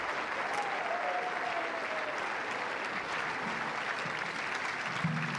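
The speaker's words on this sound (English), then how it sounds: "So Marjolein BUIS and Esther VERGEER thank the crowd, the enthusiastic Dutch supporters who've come out to watch this All-Netherlands final" Dense, steady applause from a large crowd of Dutch supporters at the London 2012 Paralympic wheelchair tennis women's doubles gold medal final, an all-Netherlands match, filling the whole stretch at an even level without talk.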